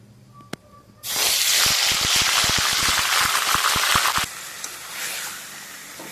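Marinated chicken dropped into hot oil with whole garam masala, setting off a loud sudden sizzle that hisses steadily with crackling pops for about three seconds, then settles to a quieter simmering hiss.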